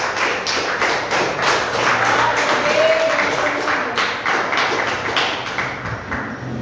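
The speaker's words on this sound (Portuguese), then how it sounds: "Desocupe as tuas mãos, louve a Deus com as palmas." A church congregation clapping hands in praise during a Portuguese-language service, continuous rhythmic clapping filling the room, loud and steady, with faint voices mixed in.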